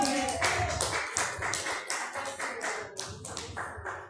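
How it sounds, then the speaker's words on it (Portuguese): A church congregation claps during a worship service, a loud, uneven burst of many hands with rhythmic accents and brief dips, sounding close and lively throughout. "Vamos receber o servo do céu, com as palmas para Cristo."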